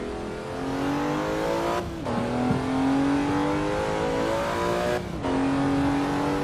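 Older car engine in Assetto Corsa EVO, revving loudly and steadily climbing in pitch, with two clear gear changes that briefly cut the sound before it picks up again.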